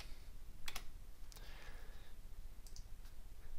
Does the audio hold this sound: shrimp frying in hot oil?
no